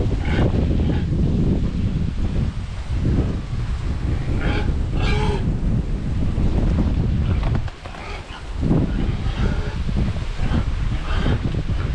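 Strong wind buffeting the microphone in a constant roaring rumble, with a brief lull near the end before it picks back up.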